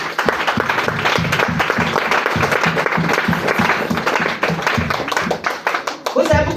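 A church seminar crowd claps rhythmically and cheers in praise of Jesus, a dense, sustained wash of hands and voices close by, with shouts mixed throughout.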